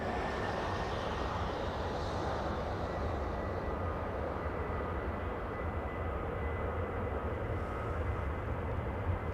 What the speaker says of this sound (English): Delta Airlines, a 737 getting a move on flying to Denver